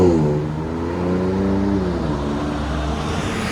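A 2025 RAM RHO pickup's 3.0-liter twin-turbo inline-six revs through a Magnaflow SPEQ cat-back exhaust, giving a loud, close, steady rumble whose pitch climbs and then settles back into a sustained deep drone, with no voices.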